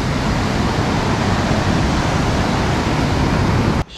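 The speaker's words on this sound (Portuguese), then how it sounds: "Mas aqui tem umas ondas bem." Strong ocean waves break against rocks at Balneário Camboriú, a loud, continuous broadband roar of surf that cuts off abruptly near the end.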